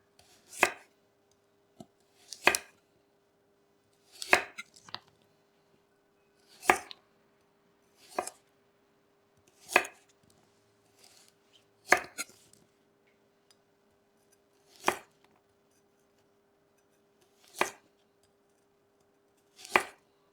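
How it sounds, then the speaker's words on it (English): Peeled carrots are sliced diagonally into half-centimeter pieces with a knife, each cut a sharp, close knock on the board, about ten evenly spaced chops with quiet between them. "Peel carrots. Then slice diagonally into half-centimeter slices."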